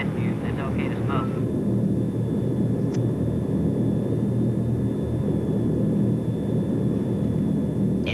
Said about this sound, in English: The B-36, a monster of an airplane with 6-piston and 4-jet engines.